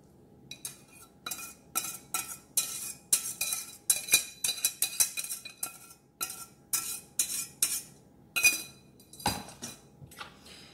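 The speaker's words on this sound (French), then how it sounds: "Je rajoute ma béchamel par-dessus. J'en mets un peu partout dans le plat." Spoon scraping and tapping against a baking dish while béchamel is spread over spinach for a gratin, with irregular metallic clinks and chinks that come in quick clusters, close up and with no talking.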